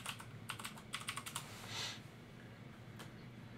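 Light tapping on a computer keyboard comes in quick bursts of keystrokes, then a brief pause and a few scattered taps, quiet and close with no talking.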